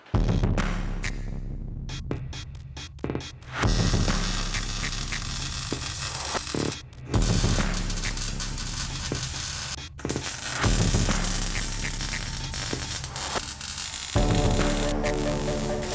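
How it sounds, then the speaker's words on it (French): MIG welding on the rear subframe mounts of a BMW M3 E46 gives long stretches of loud, steady crackling buzz. Short pauses and sputtering gaps break it up between the welding runs. "Comme vous l'entendez, c'est en cours de soudure."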